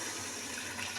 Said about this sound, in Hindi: 4 कप जो है वो यखनी है वो इसमें शामिल कर देते हैं